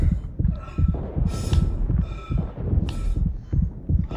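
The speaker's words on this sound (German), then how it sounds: "Das Herzschlag-Feeling ist schon cool." A heavy, throbbing heartbeat effect pulses steadily and loudly in the Dead Space 3 video game, low thuds repeating about twice a second with occasional brighter noise bursts layered over them.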